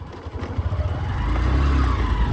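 A car engine runs steadily at idle with a low, rumbling drone that swells a little near the end. It is heard alone, close by, for a couple of seconds.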